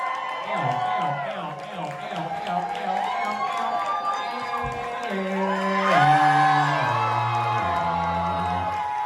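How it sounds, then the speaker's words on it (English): A Nashville drag viewing party crowd claps, whoops and cheers steadily for a performer's entrance, a continuous close wash of noise with music and some talk mixed in. "Keep that applause going until she gets out here,"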